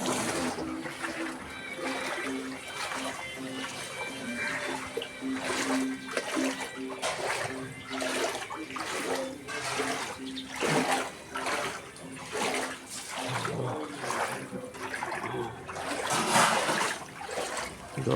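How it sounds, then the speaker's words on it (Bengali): Footsteps slosh steadily through flood water on a street in Santoshpur, Kolkata, after record rain, giving a continuous run of splashing, wading strokes over a constant watery background. "যত এগোচ্ছি তত জল বেড়ে যাচ্ছে।"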